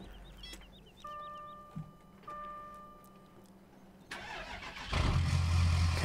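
A tractor engine in Farming Simulator 17 starts up with a sudden loud rev that roars and then holds, following a quiet stretch with a few faint tones and clicks.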